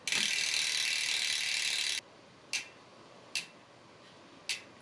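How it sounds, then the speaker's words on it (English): The freewheel ratchet in a rear bicycle hub on an Intense 951 XC mountain bike buzzes in a fast, continuous clicking whir for two seconds, then gives three short separate ratcheting bursts, close and crisp with no talking. "Here's what that hub sounds like."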